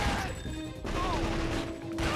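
Continuous gunfire from a shootout in a PS2 video game forms a steady, dense rattle of shots beneath game music and effects, with no clear gaps.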